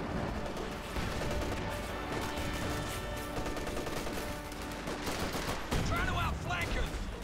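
Dense gunfire and machine-gun bursts from a World War II battle in Company of Heroes 2, including fire on a .50 caliber position, rattling steadily and fairly loud throughout with other battle noise mixed in.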